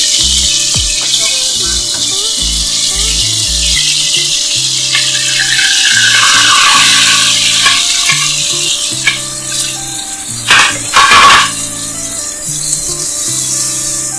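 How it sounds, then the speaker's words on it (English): Hot oil sizzles and crackles steadily as onions fry for snail sauce, with background music playing underneath and a few clatters of utensils. "And when you want to fry, you start with onions."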